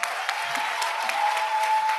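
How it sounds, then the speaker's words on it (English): An audience at a pain-management keynote applauds the panel with brief, lively clapping, individual claps audible as a quick irregular patter, with a faint steady tone beneath. "Give a round of applause for our panel"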